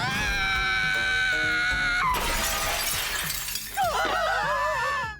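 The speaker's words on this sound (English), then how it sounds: "smashes the crystal in a fit of rage" A magic crystal in the Konosuba anime is smashed, so a sustained glassy tone suddenly breaks into a loud, crashing shatter. Tinkling fragments and warbling, ringing effects follow and fade out at the end.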